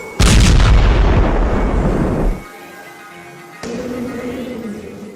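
A sudden massive drone-strike blast rumbles for a couple of seconds, fades, then a second distant boom follows with lingering rumble.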